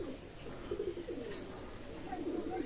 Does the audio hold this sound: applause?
no